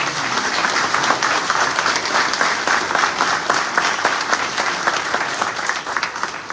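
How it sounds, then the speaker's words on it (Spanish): Applause for a guest at the opening of a surrealism exhibition, a steady crowd clapping evenly throughout without pause. "También un aplauso para él, por favor."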